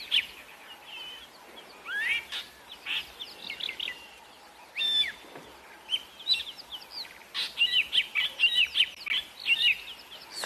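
Fork-tailed drongo calling repeatedly while mobbing raptors at a sunset safari, a string of sharp, varied chirps and whistles, fairly close and insistent, growing busier toward the end, with no talk.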